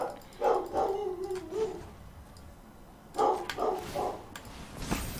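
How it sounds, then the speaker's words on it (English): A dog barks a few times in two short bursts, moderately near, over a low room hum during a home gaming session, with quiet gaps between the barks. "Dog issues."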